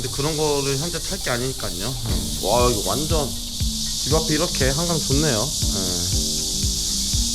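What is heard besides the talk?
cicadas chirping loudly by the Han River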